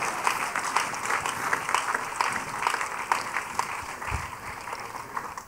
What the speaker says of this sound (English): Put your hands together for Jesus.